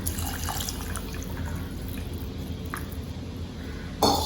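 Tamarind water pours into a pot of boiling pumpkin in a continuous close, splashing stream with a soft bubbling background. No voices are heard.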